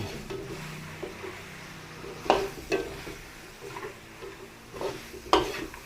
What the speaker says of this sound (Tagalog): Haluin lang po natin maigi para kumapit yung paprika sa laman.